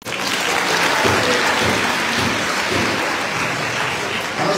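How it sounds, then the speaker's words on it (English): A large audience applauds loudly and continuously, with a dense, rain-like roar of clapping throughout. "We get to give them a round of applause."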